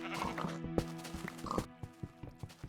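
Pigs grunt and oink in a blocky Minecraft Alpha world, faint squeals mixed with repeated soft clicking footsteps and low game noise, no talking.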